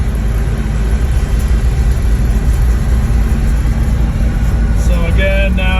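GMC 366 big block truck engine running loud and steady close by, a constant low rumble with slight RPM changes as it is shifted without the clutch; a faint tonal whine appears near the end.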